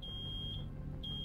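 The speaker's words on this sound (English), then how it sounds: "Something's beeping. It's the microwave by the sounds of it. What the fuck is that? It's an alarm!" An alarm beeps in the video game Road 96, one steady high electronic tone that fades and returns in two sustained bursts over a low background hum.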